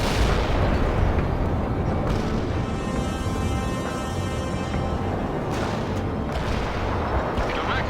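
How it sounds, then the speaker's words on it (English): Artillery fire support in the World in Conflict video game rolls in as a continuous heavy barrage of booms and rumbling impacts, loud and sustained throughout with a faint mechanical hum beneath. "Fire support incoming."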